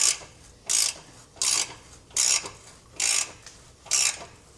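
A ratchet wrench turns a thread tap into the steel frame of a 2016 Ford Transit T250, giving six evenly spaced bursts of clicking about every 0.8 seconds, close and clear with quiet gaps between strokes.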